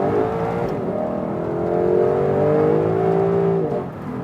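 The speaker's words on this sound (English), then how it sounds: "A little bit wet road today, but still some acceleration for you here." A 2021 Lexus LC 500 coupé with a 5.0-litre V8 accelerates in sports mode on a wet road, its engine note rising smoothly and strongly through a sustained pull before easing off.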